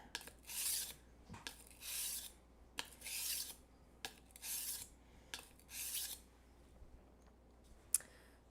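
A kitchen knife is drawn repeatedly across a sharpening stone in even, rasping strokes, about seven passes with short clicks between them, close and moderately loud with no talking.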